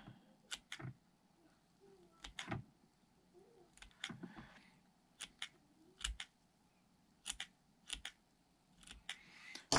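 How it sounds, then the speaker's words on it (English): Scissors snip fishing-lure feathers on a treble hook, giving about a dozen crisp, close cuts in short irregular clusters against a quiet background. "I'll just take my scissors, trim it up to the length that I want."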